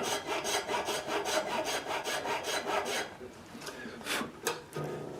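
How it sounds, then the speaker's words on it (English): A nut file rasps back and forth in a string slot of a Gibson J50 guitar nut, with steady rhythmic strokes for about three seconds, then a pause and a few slower, separate scrapes, close and fairly quiet. "using the right nut file for each string. So I'll file a little bit."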